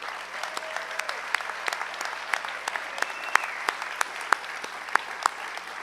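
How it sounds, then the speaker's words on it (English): Audience applause at a youth service awards ceremony, an even, moderately loud patter of many hands clapping throughout with a few sharper single claps standing out, and no speech over it. "Ladies and gentlemen, another big round of applause for everybody"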